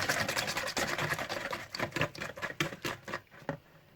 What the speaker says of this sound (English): We'll whisk those together a bit first.